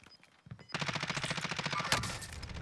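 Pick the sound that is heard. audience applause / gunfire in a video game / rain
gunfire in a video game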